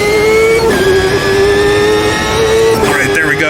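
A 1995-era IndyCar in the racing game Automobilista 2 at Long Beach, its engine holding a steady high whine that dips briefly and climbs again as throttle is picked up out of a hairpin, loud and continuous with faint talk underneath.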